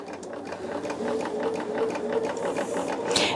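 Rapid, even stitching chatter of a sewing machine joining quilt pieces, close and continuous with a brief higher whir near the end.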